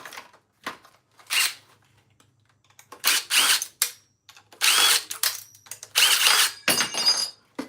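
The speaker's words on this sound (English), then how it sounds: "Let me take all these screws out." A power tool backs screws out of aluminum e-waste hardware, with several short whirring bursts separated by pauses, close and moderately loud, alongside small clicks and handling noises.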